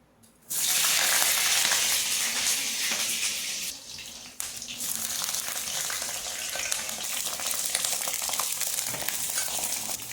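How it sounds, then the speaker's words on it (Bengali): Eggplant slices drop into hot mustard oil and fry with a loud, dense sizzle that bursts in abruptly, dips briefly as more slices go in, then continues as a steady crackling hiss. "এবার আমি বেগুনগুলোকে ভেজে নেবো এক এক করে। বেগুনগুলো ছেড়ে দিচ্ছি তেলে।"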